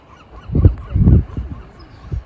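Several geese honk loudly and close by in short overlapping bursts, a flock calling out.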